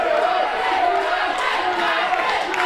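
A wrestling audience at a live show in Eutin cheers and shouts in a steady, dense roar, with overlapping voices suggesting divided chants.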